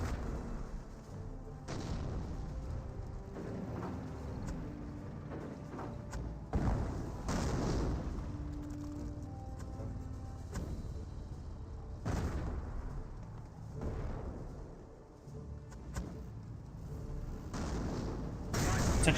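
Mortar fire in Company of Heroes, scattered heavy thumps and booms landing at intervals over a low rumbling battlefield, mostly mid-distance, with a few sharper impacts standing out.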